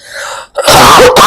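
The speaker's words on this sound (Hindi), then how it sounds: "सॉरी गाइस खांसी है" A single loud, close cough bursts out after a brief breath, alone with no talk around it.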